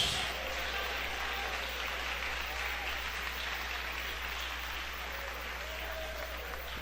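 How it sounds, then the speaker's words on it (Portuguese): Church congregation applauding together during a worship service, a steady continuous wash of clapping that stays fairly loud throughout, with no clear speech. "Eu quero ouvir palmas misturado com glória a Deus."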